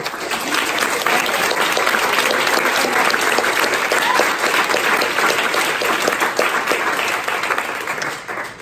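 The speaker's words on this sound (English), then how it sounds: "If you would, just give them a round of applause for coming." An audience gives a student panel a round of applause, a dense, even roar of many hands clapping that holds steady for several seconds before easing slightly at the end.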